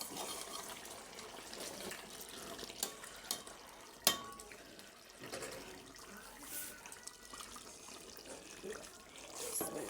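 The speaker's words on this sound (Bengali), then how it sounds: "একটু নাড়া দিয়ে দিচ্ছি।" Meat being stirred in a pot after water is added, faint wet sloshing and scraping with a sharp clink of a utensil against the pot, quiet and close.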